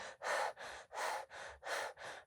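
A voice imitates panting, with six quick, close breaths in a steady in-and-out rhythm heard on their own.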